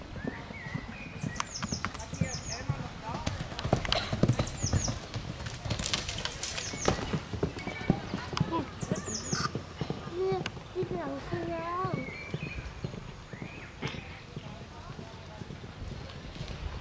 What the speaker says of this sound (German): Da reiten 100 Pferde, 100 Pferde und 1000.